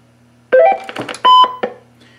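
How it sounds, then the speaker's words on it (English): Two short electronic beeps in quick succession from a pulse-dial to DTMF converter for a rotary telephone, close and clear, followed by a faint tone. "2 beeps."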